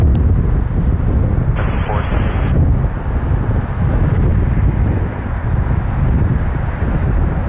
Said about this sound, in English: Clear takeoff from lane 23